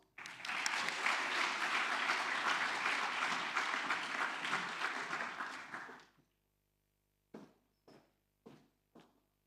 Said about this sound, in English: Next, please welcome our Symposium scholar Rachel to the stage with a round of applause.